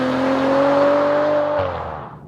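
A 2014 Maserati Ghibli saloon's engine rises smoothly in pitch under acceleration, then drops at a shift and fades, a strong continuous roar with no one talking.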